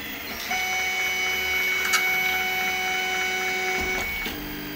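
A Tevo Little Monster 3D printer printing a part for a CNC machine, giving a steady hum with sustained whining stepper-motor tones that shift pitch as the head moves, fairly quiet and continuous with no talk.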